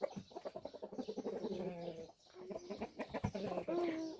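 A black rooster clucks in a village yard, a quick run of close, rhythmic clucks broken by a brief pause, then more clucking and a longer, drawn-out call at the end.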